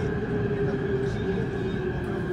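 A metro train on Prague's line C runs steadily with a constant low rumble and a sustained mid-pitched whine, close and unbroken throughout.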